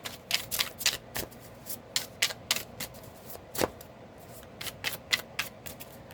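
Tarot cards are shuffled in quick riffling bursts, crisp flicks and slaps coming in uneven clusters with short pauses, close and fairly quiet.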